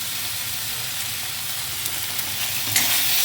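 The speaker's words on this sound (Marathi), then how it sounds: "आता टाकूया थोडीशी टोमॅटो" Finely chopped tomato sizzles in hot oil for a crab masala, a loud, continuous frying hiss with light stirring scrapes near the end.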